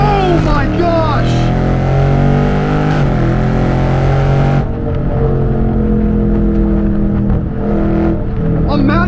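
A loud 500 hp 2021 widebody Scat Pack muscle car engine roars and revs hard as it accelerates, pitch climbing, easing off briefly, then surging again, heard up close.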